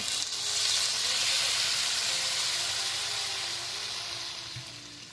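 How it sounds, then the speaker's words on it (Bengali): Water goes into a hot pan of fried potatoes for a fish curry, a loud broad steam hiss that swells early and slowly fades, alone without talk. "এবার জল দিয়ে দেব।"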